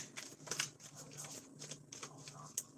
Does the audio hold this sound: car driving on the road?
no